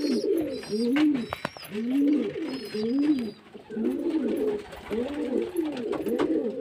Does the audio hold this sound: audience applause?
no